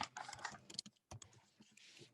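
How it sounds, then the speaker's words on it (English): Rapid clicking of keys on a computer keyboard in uneven bursts with short pauses, close and fairly quiet, no talking. "I'm typing it right now."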